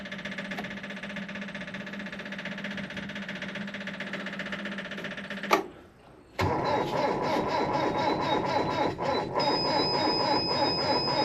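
A Ford Fairlane engine cranking on the starter in a long, steady churning drone, briefly stopping, then cranking again with a rougher, louder rhythm as it struggles to catch.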